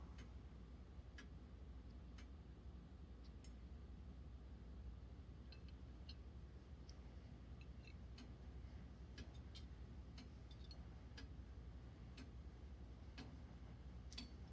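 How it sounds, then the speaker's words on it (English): A grandfather clock in the Life is Strange: Before the Storm video game ticks steadily and evenly throughout, a faint, regular tick-tock set against a low, continuous room hum with no voices. "the sound of the grandfather clock is haunting"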